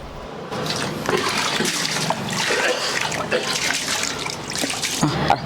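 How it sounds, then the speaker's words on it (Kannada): Water pours steadily into a washed bucket for making Bengali rasgulla at home, a continuous close, fairly loud rushing splash with no break. "ಬಕೀಟನ್ನು ಚೆನ್ನಾಗಿ ತೊಳೆದು ಬಕೀಟಲ್ಲೇ ನೀರನ್ನು ಹಾಕ್ಕೊಳ್ತಿದ್ದಾರೆ"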